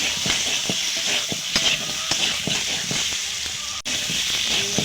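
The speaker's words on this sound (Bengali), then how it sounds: "একটু ভালো করে কষিয়ে নেব।" Salt and turmeric sautéing in oil for an egg curry, with a close, continuous sizzle broken by quick, repeated spatula scrapes against the pan and one sharp knock near the end.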